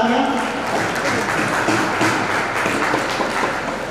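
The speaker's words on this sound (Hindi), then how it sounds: "हेमा कुमारी के लिए जोरदार तालियां।" Audience applause at a Viksit Bharat Youth Parliament district-round event in Samastipur, a steady dense wash of clapping across the whole stretch with some murmuring voices mixed in.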